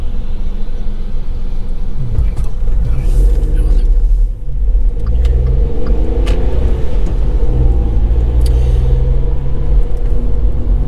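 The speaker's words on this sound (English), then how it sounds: "She got a bit of traffic here." Steady low rumble of a car moving through road traffic in Southport, the engine and road drone heard from inside the cabin, continuous throughout with people talking over it.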